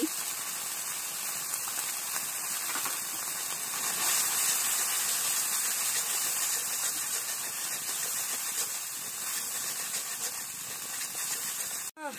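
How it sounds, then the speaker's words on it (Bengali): Cumin and ginger paste with turmeric sizzling in hot oil for an eel fish curry, a steady dense hiss of frying that holds evenly throughout and cuts off abruptly at the very end. "মশলাটা একটু ভাজি নিই"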